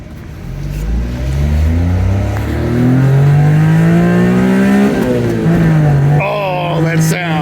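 A Honda Beat kei car's small engine revs hard while driving down Skyline Boulevard. It climbs in pitch through the gears with a loud, buzzing drone that barely pauses, staying prominent and close for several seconds.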